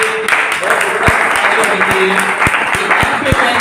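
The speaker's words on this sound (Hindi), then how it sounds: "मैं चाहता हूं आपको एक दिल से ताली होनी चाहिए आपके लिए।" Audience applause at a Hindi-language network-marketing training seminar: steady crowd clapping throughout, fairly loud, with a few sharper individual claps and faint voices mixed in.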